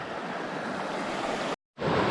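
Rushing river water while someone wades across a river in a Georgian canyon, a loud continuous broadband roar that cuts out briefly and then returns just as strong.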